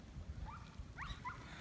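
Dogs chasing birds in a creek on a Costa Rican beach give a few faint, brief yips and whimpering barks from a distance over low wind rumble.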